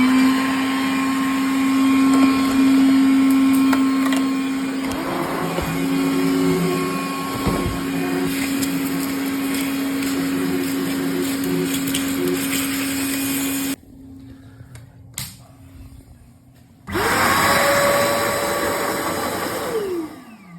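A vacuum cleaner runs loudly and steadily with a droning motor hum, cuts out for about three seconds, then starts up again and keeps going.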